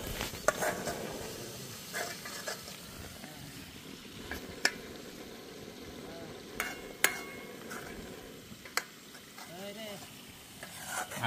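Masala frying in a pan while being stirred, a steady sizzle with intermittent scraping and clicks from the spoon against the pan, close and fairly quiet.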